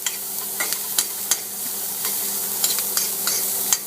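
Ground beef cooking in a buttered pan for spaghetti, a soft constant sizzle under repeated sharp clicks and scrapes of a utensil spreading the meat, close up with no talking.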